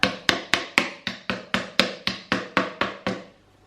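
A toy hammer knocks pegs into a wooden toy twelve times in an even, brisk rhythm, each sharp wooden tap ringing briefly before the next.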